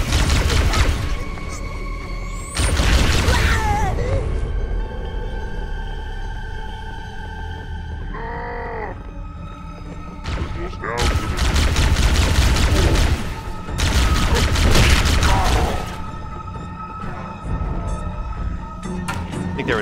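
Covering gunfire in the Halo Combat Evolved video game, heard as several loud, separate bursts of rapid shots between quieter gaps with mechanical game sounds.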